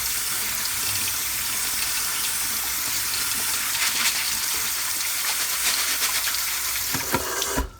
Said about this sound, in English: I'm going to go ahead and get these rinse off.